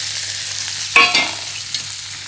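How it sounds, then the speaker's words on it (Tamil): Sliced onions hit a hot pan and are stirred, giving a sharp scrape and clatter followed by a steady, close sizzle with a few more stirring knocks. "இப்போ இதில் வெங்காயத்தை நீல நிறமாக கட் பண்ணி வச்சதை வதக்குறோம்."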